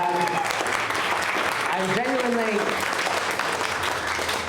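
An evening comedy and variety show audience applauds the acts with steady, dense clapping throughout, while a host's voice speaks loudly over it.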